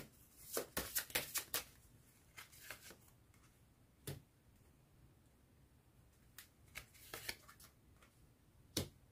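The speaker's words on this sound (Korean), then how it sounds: "그럼 추가로 조언점 카드 뽑아보도록 할게요." Tarot cards are shuffled in quick crisp bursts of riffling snaps, then single cards are drawn and laid down with sharp isolated flicks, close and fairly quiet, no talking.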